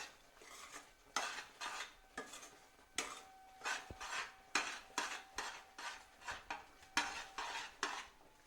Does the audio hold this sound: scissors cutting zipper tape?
no